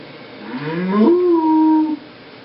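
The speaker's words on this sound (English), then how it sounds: "It's Clover Cow and Farmer Fuller." A cartoon cow gives a single voiced moo that swells upward, then holds a long level tone before cutting off, loud and alone.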